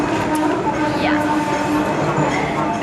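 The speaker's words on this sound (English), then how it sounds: "we're in the tram now" Inside a moving Hong Kong tram, a loud steady rumble of wheels and carriage runs throughout, with faint squeals and rattles over it and muffled background voices.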